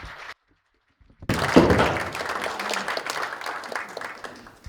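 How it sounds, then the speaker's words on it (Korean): Audience applause welcoming the guest speaker at an international logistics CEO breakfast forum, starting abruptly after a short silence and continuing as dense, steady clapping to the end. "여러분 큰 박수로 이형현 대표를 환영해 주시기 바랍니다."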